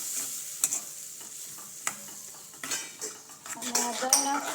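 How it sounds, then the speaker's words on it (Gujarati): A spoon stirring whisked yogurt into khichdi in a pot, giving scattered close metallic scrapes and clinks over a soft sizzle of cooking food, with no talking. "અને સરસ રીતે મિક્સ કરી લઈશું"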